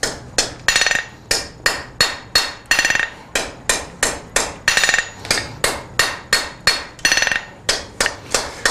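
A blacksmith tapers thin bar stock on an anvil, striking it in a steady run of loud, ringing hammer blows, roughly two to three per second, close and without talk.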